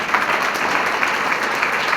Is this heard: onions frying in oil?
no